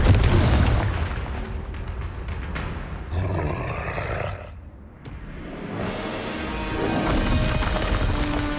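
The Confringo fire spell from Hogwarts Legacy goes off with a heavy booming blast and roaring rumble, then a brief lull before another loud burst of explosive noise, close and dense throughout.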